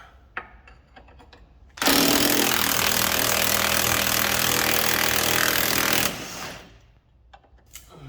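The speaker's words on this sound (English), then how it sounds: "now to remove this with 19mm gun and spanner" A loud, steady pneumatic impact gun whirs for about four seconds without a break, removing a 19mm bolt on an Alfa Romeo top wishbone, with quieter clicks and handling noise before and after.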